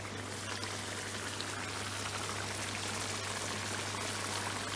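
A pot of very hot chicken naga curry simmering and thickening on the stove, giving a steady, close, continuous bubbling and sizzling hiss with no speech over it.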